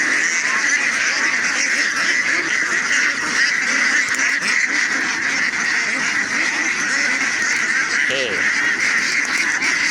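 A dense flock of young female ducks being sorted by hand, a continuous loud chorus of honking quacks with no pause, close and crowded, with faint voices mixed in.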